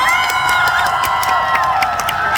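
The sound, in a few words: concert audience applauding and cheering fan club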